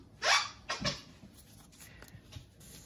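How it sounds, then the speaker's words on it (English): A small dog squeaks a squeaky toy, giving two quick high squeals close together followed by soft shuffling, faint and with no voices. "That is one of our mini dogs squeaking a squeaky toy."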